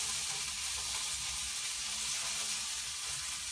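Garlic and ginger sizzle steadily in hot oil as they are stirred in a pan for a bok choy and greens dish. The frying hiss is close and continuous, with no talking.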